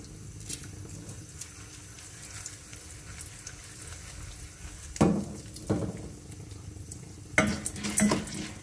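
Popcorn kernels being stirred with oil in a pot, a low steady scraping and shuffling with a few louder bursts of stirring toward the end, no voices.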